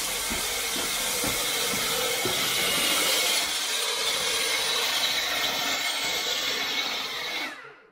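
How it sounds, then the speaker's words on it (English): A loud, steady high-pitched whirring drone of a power drill drilling upstairs in a building runs continuously, then cuts off abruptly near the end. "upstairs drilling, excuse the noise."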